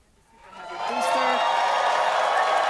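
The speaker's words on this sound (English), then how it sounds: "Everyone cheering as we get into T-minus 5 minutes" A crowd at the SpaceX Starship launch site swells into cheering and applause, rising from quiet over the first second to a steady, sustained roar, with a voice briefly audible near the start.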